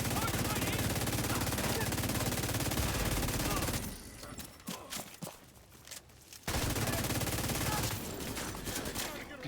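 Dense gunfire from The Division 2 Dark Zone, a loud continuous barrage for several seconds, dropping to scattered shots and footsteps, then resuming as heavy sustained fire.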